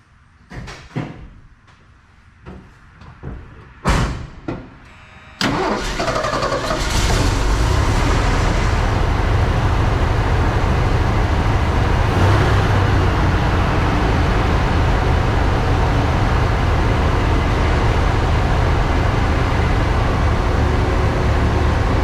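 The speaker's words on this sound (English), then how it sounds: "So as long as it starts and runs here right now, we're going to take this out for a drive today." A 1979 Ford F100 truck, parked since 1992, cranks through a few uneven attempts before its engine catches and settles into a loud, steady run that continues close by.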